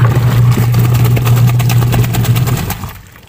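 A steady low hum from a repaired secondhand washing machine motor drones loudly for most of the clip, then winds down and fades out near the end.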